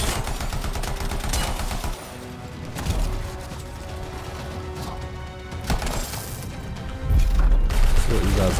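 Gunfire crackles from the player's weak gun in the video game Anthem, bursts of rapid shots that surge, drop back, then swell again with heavier booms near the end, loud and busy with mechanical clatter.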